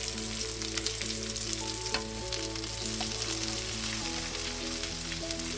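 Cut okra hits hot oil seasoned with turmeric, a close, steady sizzle and crackle with faint stirring over a constant hum.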